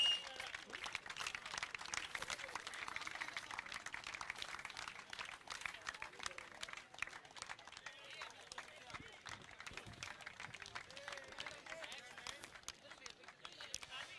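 A cricket crowd applauds during the prize presentation for player of the tournament at the Col. Fateh Khan Memorial Cup T20 final, steady clapping running under a male announcer's voice.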